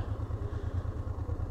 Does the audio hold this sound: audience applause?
no